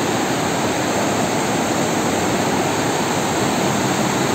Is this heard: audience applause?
no